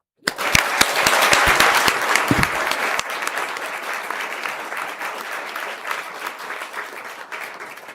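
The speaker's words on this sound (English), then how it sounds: "Round of applause" A council meeting audience breaks into applause in the chamber, starting with a few sharp nearby claps that swell into loud, dense clapping from many people, which carries on steadily and then ends abruptly.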